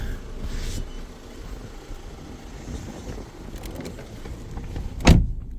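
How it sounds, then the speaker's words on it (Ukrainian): Automatic power window in a 2015 Volkswagen Tiguan 2.0 diesel, a muffled motor whir inside the cabin that ends in a sharp thump as the glass stops, close and fairly loud. "всі склопідйомники автоматичні"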